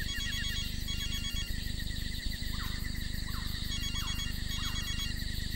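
A phone rings in repeated electronic patterns against a loud, steady low drone, with the tone fairly clear over the noise and no one speaking.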